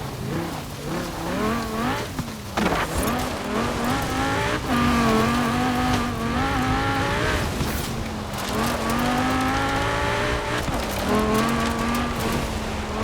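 Car driven in Forza Horizon 4, a loud close engine revving up and down through gear changes with bursts of tire squeal, sustained throughout.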